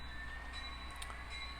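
An HO scale model freight train runs along a 4x8 home layout, giving a faint, steady low rumble of wheels on track with a few soft high squeals, heard alone without talk.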